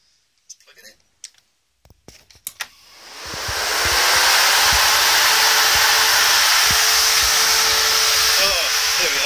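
A Spal electric radiator fan, mounted on an old radiator core, gives a few clicks as it is plugged in, then spins up into a loud, steady rushing whoosh of air that continues to the end.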